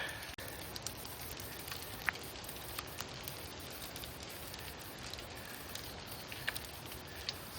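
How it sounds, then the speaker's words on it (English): Hail falling steadily outdoors on a mountain trail near a lake, a dense, even patter of small impacts with a few sharper ticks, sustained and fairly faint, with no talking. "now it's hailing"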